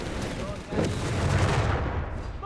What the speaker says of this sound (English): And we got mines exploding under the Germans' feet.